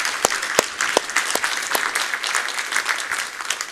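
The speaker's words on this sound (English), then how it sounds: "with a big applause, we thank the panelists." An audience at a democracy and rule-of-law symposium in Stockholm applauds the panelists, with steady clapping and a few loud, distinct claps standing out close by.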